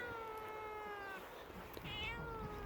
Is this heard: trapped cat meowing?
yes